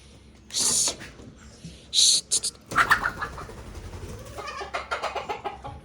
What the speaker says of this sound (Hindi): ये रहे जी मेरी 4 मुर्गियाँ, 3 मुर्गियाँ और 1 मुर्गा